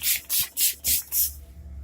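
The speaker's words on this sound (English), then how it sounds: "I do spray periodically throughout doing my makeup" Makeup setting spray misted in five quick, even bursts, close and crisp, fading into quiet hiss at the end.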